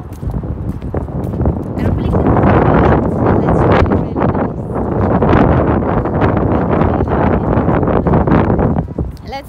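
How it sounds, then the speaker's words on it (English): Strong wind blows outdoors near a cinema, roaring and buffeting the microphone in loud gusts that swell and ease throughout the clip. "It's kind of windy a little."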